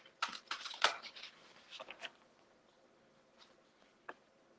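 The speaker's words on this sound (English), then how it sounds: "These cards shuffle up really nicely, really nicely." Quiet, quick riffling patters of a deck of reading cards being shuffled by hand, a burst of crisp flicks followed by a few scattered soft taps and a lone snap.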